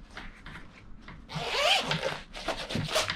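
A zipper on a folding camping chair's carry bag rasps open in one long pull, then a second shorter run, close up with no talking.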